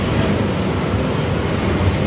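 A Transjakarta corridor 1 city bus at a stop in Kota Tua, Jakarta gives a steady, loud low engine rumble with constant roadway noise around it, close by and with no talk.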